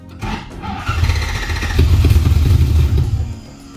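A Toyota 1UZ V8 engine swapped into a Celica RA64 cranks over on the starter, giving a rough, rhythmic churning that grows louder and steadier for a few seconds without catching, heard up close.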